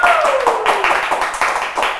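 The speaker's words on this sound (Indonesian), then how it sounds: "kenapa pada tepuk tangan mulu?" A small audience at a creative-industry forum claps in loose, uneven bursts, near and fairly loud, with a voice talking over the clapping.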